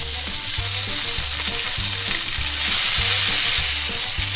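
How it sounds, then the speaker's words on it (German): Onions fry in clarified butter in a hot pan, giving a loud, steady sizzle close up, with regular utensil knocks and stirring scrapes against the pan and no voices. "So, und schwitzen die Zwiebeln wenig an."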